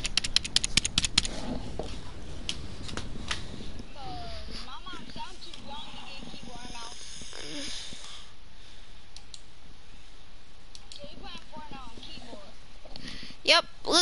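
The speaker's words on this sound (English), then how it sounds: "This is my mouse. And this is my keyboard." Clicks from a computer mouse and keyboard, crisp and close, come in quick bursts at the start and again near the end, with someone talking over the quieter middle stretch.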